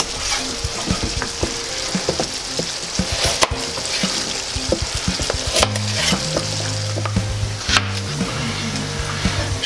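Chinese-style fried noodles with cut carrot being stirred in a hot pan, with a steady sizzle and repeated scraping and clacking of the stirring utensil against the pan, close and continuous.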